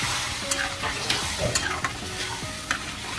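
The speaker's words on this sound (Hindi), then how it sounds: "आधा लीटर दूध डाल देंगे और उसको चलाते रहेंगे" A spoon stirs moong dal halwa in a pan with milk added, making continuous wet scraping and soft bubbling sizzle with occasional sharper clinks against the pan, steady and close with no talking.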